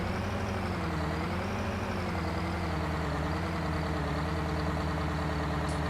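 A tractor engine in Farming Simulator 19 idles steadily, a loud, even low rumble with a throbbing pulse that holds unchanged throughout, no talk over it.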